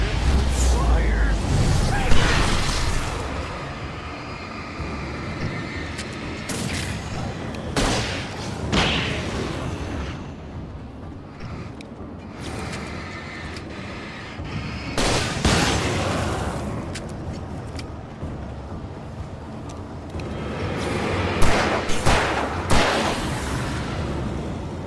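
Gunfire and heavy booming impacts in the survival horror game Alan Wake Remastered, several loud bursts over the course of the clip, mixed with voices and game effects.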